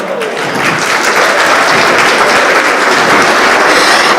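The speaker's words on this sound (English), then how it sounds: "a huge round of applause to her" Loud, dense audience applause at the PCC Gala 2022 for Jyoti Soni, a steady wash of many hands clapping that holds throughout with no talking over it.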